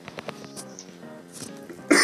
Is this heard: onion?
no